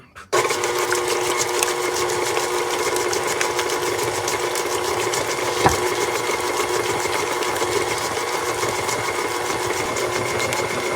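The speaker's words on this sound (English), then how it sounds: "And then mix it together until it's just combined." An electric mixer whirs continuously and close as it blends cookie bar batter with two eggs, starting abruptly and holding a steady motor drone with a brief knock midway.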